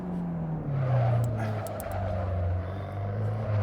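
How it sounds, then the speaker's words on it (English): A Mark 1 Ford Fiesta engine pulls steadily under acceleration through the gears, its note rising and then dipping at a shift, loud and close, with brief clicks and no talking. "And sounds very sweet for a Mark 1 Fiesta as well."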